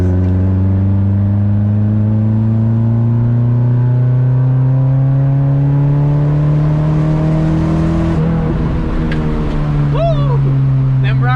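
A Honda Civic accelerates hard on gravel, its engine droning loud and close with pitch climbing steadily through the gear, then dropping at a shift as stones crackle against the body.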